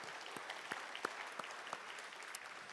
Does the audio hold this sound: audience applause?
yes